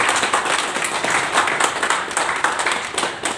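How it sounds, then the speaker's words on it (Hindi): Loud applause from an audience at a meeting, a dense burst of clapping that fills the short stretch steadily with no voices over it. "जोरदार ताली।"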